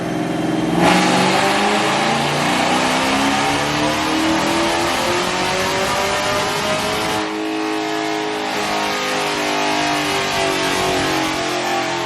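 A 2018 Chevrolet Camaro SS engine with an E85 tune revs hard and holds a loud, steady roar with sweeping harmonic climbs, a brief drop near the end before revving again.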